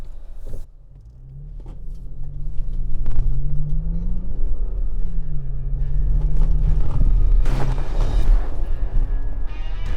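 A 2022 Toyota Tacoma TRD Pro and a Nissan Frontier Pro-4X driving off-road at about 30 mph, a loud continuous engine rumble with rising and falling tone and occasional bumps and rattles.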